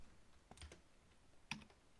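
Typing on a computer keyboard while chatting in a Roblox game, heard as a few quiet, scattered key clicks in two short bursts.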